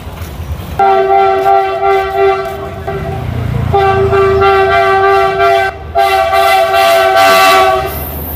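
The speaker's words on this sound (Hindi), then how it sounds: "आई थिंक कोई ट्रेन आने वाला है इसलिए रेल गेट बंद करके रखा हुआ है" A train horn blares in long sustained harmonic blasts, repeated three times, loud and close over rumbling rail noise, at a closed railway level crossing.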